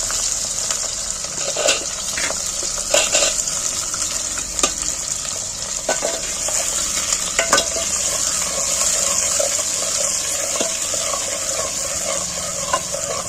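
Large-cut onions fry in a pan for a village-style mutton curry, with a steady hiss of sizzling oil and intermittent scraping knocks as they are stirred, close and continuous.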